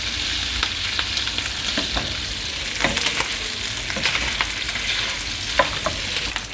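Steady sizzling of meat frying in a pot for kavurma, with scraping and clinking as it is stirred, close and loud, no voices.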